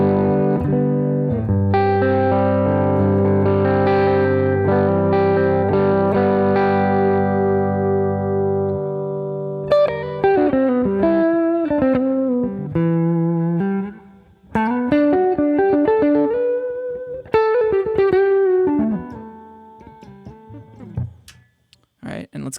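Cleaner electric guitar through a tweed amp impulse response on a Sonic IR pedal, with a long ringing chord, then picked phrases and bends, close and fairly loud, ending in scattered notes.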